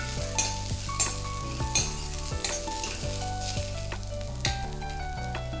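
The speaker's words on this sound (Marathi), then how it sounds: "आता ही पण आपल्याला चांगली तेलामध्ये फ्राय करून घ्यायची आहे" Chopped cluster beans (gavar) fry in hot oil for a spicy Maharashtrian thecha, giving a steady close sizzle broken by a few sharper crackles and spatula scrapes with no voices.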